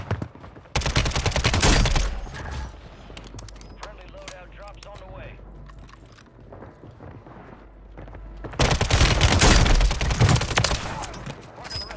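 Bursts of full-auto M16 rifle fire in Call of Duty on Rebirth Island, loud and dense at the start and again near the end, with a quieter stretch of distant shots and clatter between.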